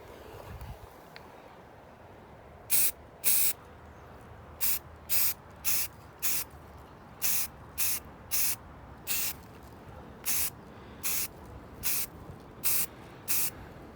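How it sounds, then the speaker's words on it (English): Short hissing bursts of spray paint being applied to a Mandalorian helmet outdoors, about seventeen rapid, evenly paced sprays over steady wind noise, close and clear. "The force of the spray paint coming out and the wind was able to kind of spin it around just perfectly."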